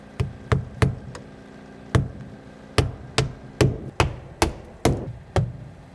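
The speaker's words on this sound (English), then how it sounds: "I'm gonna put some nails in this to hold it." A hammer drives nails into wooden window trim in a workshop, about a dozen sharp, close knocks in an uneven rhythm, some in quick pairs, with short pauses between them and no voices.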